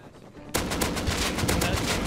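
Gunfire erupts in Rust after a quiet moment, a loud close string of rapid shots hammering on without pause, dense and harsh over faint background.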